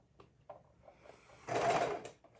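A sewing machine runs a burst of stitching to attach trim or lace around the edge of a junk journal cover, preceded by a few light clicks and handling taps; no one speaks.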